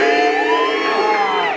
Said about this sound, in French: Ah, applaudissez pour vous.